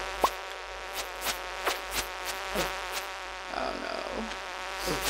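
Insects buzz in Stardew Valley during late summer, a steady droning hum with short louder swells throughout, while a player briefly exclaims over it.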